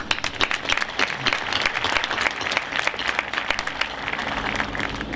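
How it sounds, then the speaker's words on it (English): A crowd at a class of 2022 graduation ceremony applauds loudly and continuously. The sound is a dense, sustained wash of clapping from many hands that holds steady from start to finish. "I would like to give her applause."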